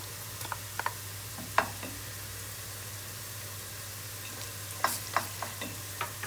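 Tomato paste fries in a pan for bulgur pilaf, giving a low continuous sizzle under a steady background hum, broken by sharp clicks and scrapes of a utensil stirring, in clusters near the start and the end.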